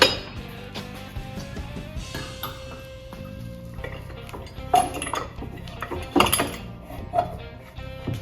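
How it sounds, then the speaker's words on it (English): Loose metal parts, including a washer, clinking and dropping inside a stock secondary clutch from a Polaris Ranger 900 during disassembly, with scattered light metallic ticks and clanks over a quiet workshop background. "Notice you can hear some stuff falling in these stock secondary clutches"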